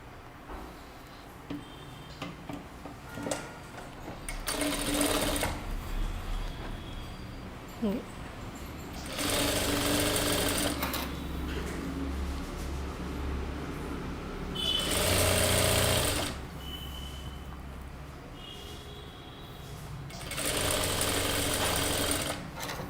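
Sewing machine stitching a folded one-inch hem on a kurta top, running in four loud bursts of rapid mechanical whirring separated by quieter pauses of handling and faint background noise.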